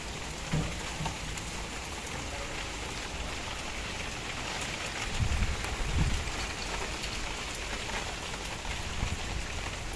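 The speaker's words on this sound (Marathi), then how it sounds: "बाहेर चांगलाच मोठा पाऊस" Heavy evening rain falls outside, a dense steady hiss of drops on surfaces with a few low thumps partway through and no voices.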